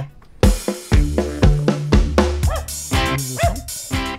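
A dog barks repeatedly and loudly, about nine sharp barks in a steady rhythm, close by with no other sound between them.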